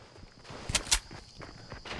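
Footsteps in Fortnite, a game match, come as a quick run of soft thudding steps with a couple of sharper louder ones, fairly faint, with no talking.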